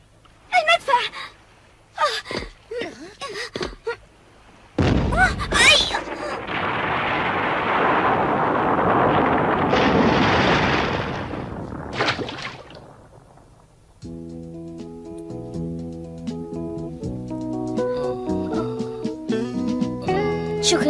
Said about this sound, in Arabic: المدفع.